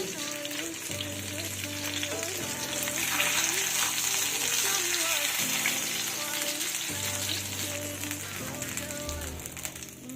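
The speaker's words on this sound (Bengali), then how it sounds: "একইভাবে আমি বাকি মাছগুলো ভেজে নেব দেখো কীরকম ফাটছে" Pabda fish frying in hot oil, giving a dense crackling, spluttering sizzle that swells in the middle, close by, with a low tonal hum and occasional faint voices in the background.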